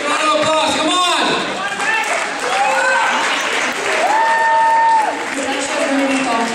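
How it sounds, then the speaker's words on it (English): Audience at a high school dance-a-thon claps in steady applause beneath a loud announcer's voice and music tones, the clapping a broad wash under the talk. "Give a round of applause, come on!"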